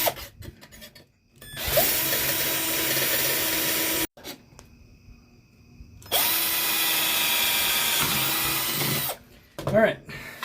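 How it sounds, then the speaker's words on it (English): A power drill bores holes through a metal tin, two sustained whining runs of a few seconds each separated by pauses with small clicks and handling knocks, close and loud. "you're going to want to start by drilling a hole in the center"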